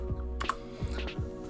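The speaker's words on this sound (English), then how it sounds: "so I end up just smashing my keyboard." Keys on a computer keyboard hammered in a few quick, rough bursts while a file name is typed, close and fairly quiet.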